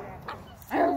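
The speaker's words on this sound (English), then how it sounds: "Dog playing with me now? Yep, dog's playing." A playful dog gives a couple of short yipping barks at close range, a brief one followed by a louder, higher bark, with a faint background hum.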